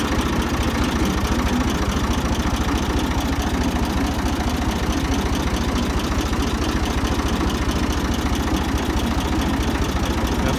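A Ford 2000 tractor engine in first low gear chugs steadily and loudly up close, a continuous rhythmic low rumble with a knocking pulse and no talking.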